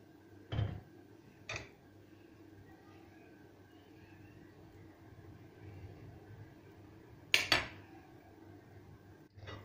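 Pasta salad being stirred in a bowl, with a few sharp clinks of a utensil against the dish separated by quiet pauses over a low steady hum.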